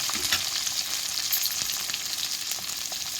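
Chopped onions frying in hot oil until brown, a continuous loud hiss and crackle close by, with faint scrapes of stirring, stopping abruptly at the end.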